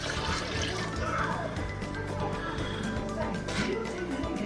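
Water runs from a kitchen tap while a ragu is being cooked, a dense, continuous rushing stream that stays at an even level throughout.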